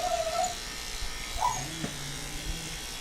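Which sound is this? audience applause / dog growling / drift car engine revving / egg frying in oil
dog growling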